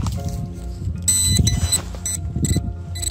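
Metal detector sounding off over a small scrap of tin dug up during a field search, giving strong tonal beeps that stand out over outdoor background noise, with no talking.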